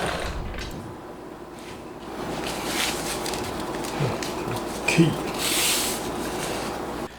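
A sewing machine stitches two motorcycle seat panels together for a Honda RC146 replica seat, giving a close mechanical whir and rapid ticking that rise and fall in bursts, with a few handling clicks and rustles.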